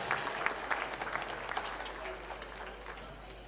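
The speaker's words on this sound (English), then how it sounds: "Please join me in a loud round of applause for our sponsors" Audience at a 30-year anniversary celebration gala gives a round of applause for the event's sponsors, fairly faint and distant clapping with a few sharper claps early on, tapering slightly toward the end.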